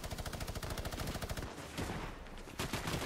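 A machine gun fires in the video game Fortnite, with a fast steady rattle of evenly spaced shots that then gives way to a rougher, denser burst of gunfire, all fairly quiet in the mix.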